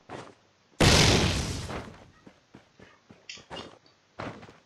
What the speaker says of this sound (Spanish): le tira un poco mal esa granada